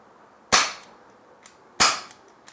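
Two sharp, loud shots from an Umarex Ruger SuperHawk 8-inch 6mm airsoft revolver ring out about a second apart, each with a quick snapping attack and short decay, plus faint mechanical clicks between.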